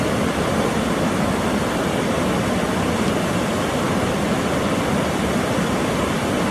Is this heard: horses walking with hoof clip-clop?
no